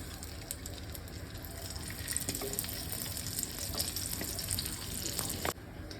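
Oil and a cube of butter sizzle steadily in a pan used to fry paneer, a dense continuous hiss with faint clinks, close and fairly loud, with no voices.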